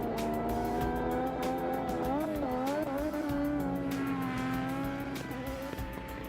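Three Formula One racing cars race an F-104 jet over a 1,000-meter runway in the early 1980s, their engines a loud, continuous high-revving roar with rising and falling pitch as they accelerate and shift gears.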